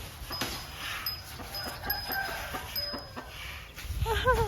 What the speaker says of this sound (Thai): ไก่มาแล้วนะ